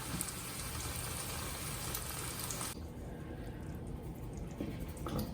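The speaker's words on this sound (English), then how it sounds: "So I'm going to do that while I fry everything up." Yams sizzling and crackling in hot oil, a dense steady hiss with tiny pops, close and continuous with no talking.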